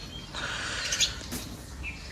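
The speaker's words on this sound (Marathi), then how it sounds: "या बघा मित्रांनो, चिमण्यांची किलबिलाट." Sparrows chirp outdoors on a fresh village morning, a few bright calls over a steady soft outdoor hiss, faint and moderately distant, with no talking.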